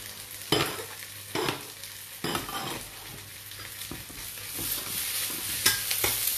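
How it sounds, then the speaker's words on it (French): Phad thai noodles are stirred and tossed in a hot wok, with a steady sizzle of frying under repeated sharp scrapes and clanks of the utensil against the metal, close and alone. "Et je vais mélanger."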